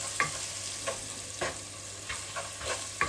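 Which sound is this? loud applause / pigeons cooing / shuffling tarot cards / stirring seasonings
stirring seasonings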